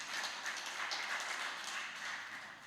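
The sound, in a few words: applause in church service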